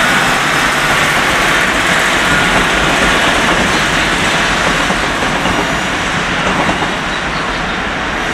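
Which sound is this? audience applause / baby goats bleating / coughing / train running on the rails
train running on the rails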